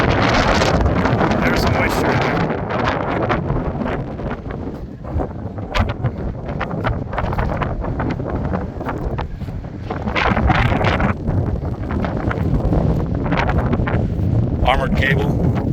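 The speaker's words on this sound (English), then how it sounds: "Again, super windy." Strong wind buffets the microphone in a loud, continuous roar at an abandoned mine, with someone talking briefly over the gusts.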